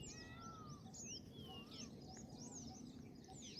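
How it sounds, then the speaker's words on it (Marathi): Peacocks calling from dense bushes in a village, with repeated sharp, rising cries scattered across the clip over a steady outdoor background hum, fairly distant and moderate in level. "तिकडे त्या झाडीमधनं मोरांचा आवाज येतो आहे"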